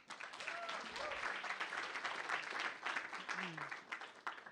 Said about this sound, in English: I want to give one more round of applause for all the competitors tonight.